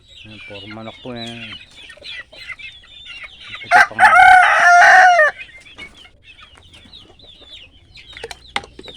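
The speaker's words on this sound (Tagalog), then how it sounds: "Ang mga manok. Ang mga manok." A loud rooster crow rings out up close amid scattered clucking from several chickens, with a voice speaking briefly beforehand.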